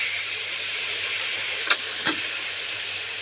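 Washed chicken pieces land in a hot pan, raising a steady hiss of sizzling oil with two sharp clattering knocks as pieces drop in, no talk.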